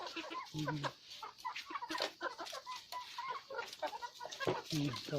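Farm chickens cluck and squawk in a steady, busy chorus close by, with several birds calling over one another.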